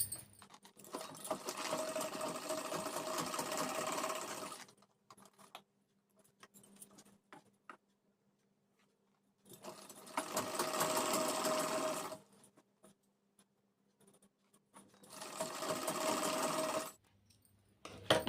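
Sewing machine stitching a halter neck maxi dress in three separate bursts of rapid, rattling needle chatter, each lasting a few seconds, with quiet handling gaps and no talking between them.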